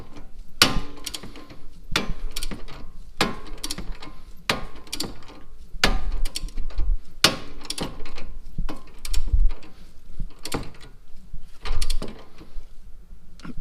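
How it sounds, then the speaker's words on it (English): A torque wrench ratchets to tighten a sway bar link bolt on a 2011 Chevy Equinox: close, sharp clicking strokes repeated in a steady rhythm with short pauses between pulls, loud and alone without speech. "it was nowhere near tight when I grabbed the torque wrench"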